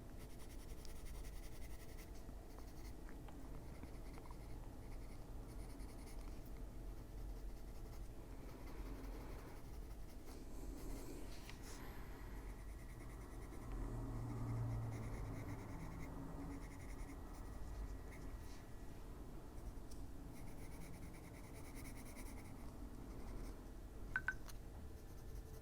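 Burnt ochre colored pencil scratching steadily across a paper coloring page, a soft continuous scraping of fine strokes heard close up with no talk.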